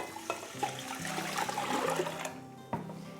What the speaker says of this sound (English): adding 8 cups of water